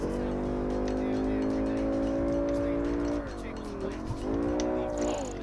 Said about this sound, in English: the sound of this car inside is amazing